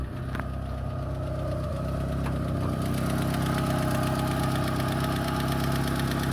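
A Fiat Tipo car engine runs steadily at idle with the engine bay open, giving a continuous mid-pitched hum with a faint rhythmic ticking throughout and no talking.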